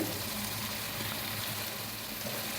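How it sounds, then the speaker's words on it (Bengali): Spice paste for a Bengali chicken dish with tomato and mace powder fries on medium heat while being stirred, giving a steady, close, dense sizzle that continues without a break. "মশলাটা নেড়ে চেড়ে দু তিন মিনিট কষিয়ে নেব মিডিয়াম হিটে"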